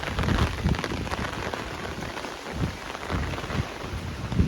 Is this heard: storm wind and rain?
yes